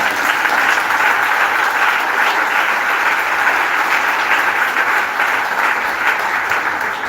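A church congregation cheers and claps in a steady, dense wash of applause that stays loud and even throughout, with no clear speech on top.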